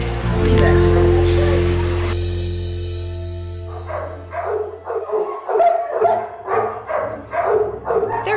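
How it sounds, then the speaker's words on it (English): Untrained shelter dogs bark and yip in a run of sharp, repeated bursts, mixed with whimpers and low ambient noise. "There's a reason these dogs are here."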